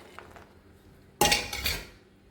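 A metal spoon scraping and clanking against a pot while fried banana pieces are stirred into jaggery syrup, one sudden loud burst of clatter after a quiet start, then fading.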